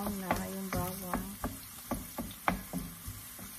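Garlic browning in a pan for pork menudo, a constant sizzle broken by repeated clacks of a utensil stirring and scraping, close and fairly loud, without talk.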